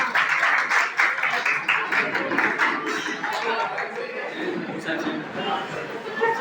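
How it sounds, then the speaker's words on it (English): Audience claps as a student is called onto the stage at a college freshers' event, loose clapping strongest at the start and then thinning, mixed with crowd chatter and a voice speaking over it. "Clap for her, guys."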